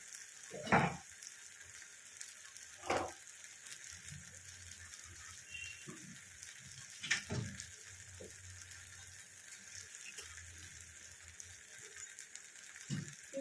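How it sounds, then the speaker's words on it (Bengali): Rice fries in a pan with a soft, continuous sizzle, broken by a few sharp scrapes and knocks of stirring spread across the stretch, close by and without speech. "চালটা মোটামুটি ভাজা হয়ে গেছে।"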